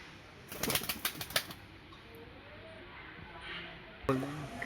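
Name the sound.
pigeon released, wings flapping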